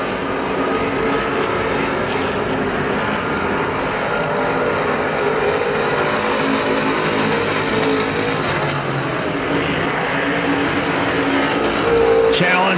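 Street stock race cars lapping Perris Auto Speedway during the main event, a loud continuous engine roar from a pack of cars under an announcer's commentary, the din swelling slightly near the end.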